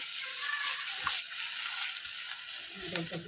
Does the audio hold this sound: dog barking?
no